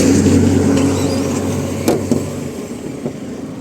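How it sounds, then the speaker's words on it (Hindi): Hyundai Alcazar 1.5 turbo petrol engine running close by after starting, a steady mid-pitched hum with a couple of brief knocks and clicks. "गाड़ी स्टार्ट करके मैं आपको इसका नॉइज़ वगैरह सुना देता हूँ"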